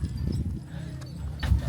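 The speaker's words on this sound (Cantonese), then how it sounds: "而家就坐馬騎馬" Horses carry riders up toward the Bromo volcano crater in East Java, Indonesia, with soft hoof clip-clops and low rustling at close range over a short stretch, with faint voices in the background.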